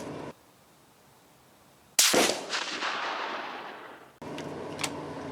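A single loud, sharp rifle shot from a K31 firing a GP11-based frankenbullet at an outdoor range, with a long decaying echo afterward, followed by a brief mechanical clatter.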